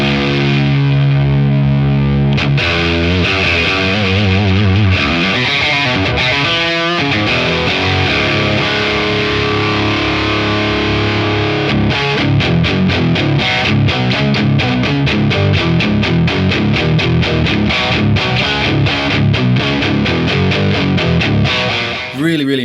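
Electric guitar played through an Origin Effects Revival Drive Compact overdrive pedal, loud and gritty, moving from sustained crunchy chords into fast, choppy distorted riffing with a brief bending slide partway through.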